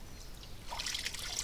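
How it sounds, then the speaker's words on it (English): Spring water seeps from the ground behind a rock and trickles into a rock basin at a homestead water supply, making a faint, steady, close trickle with no voices. "Water comes out of the ground a little bit behind this rock, fills up this basin."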